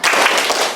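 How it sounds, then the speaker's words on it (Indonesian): A school class bursts into a short round of group clapping, the 'tepuk semangat' cheer, loud and close, lasting under a second. "Kita lanjutkan dengan tepuk semangat yang kedua"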